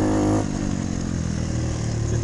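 Moped engine in a 50cc enduro race at Winchester, revving hard and steady at full throttle, close and loud, with a brief dip early on before the drone holds flat out.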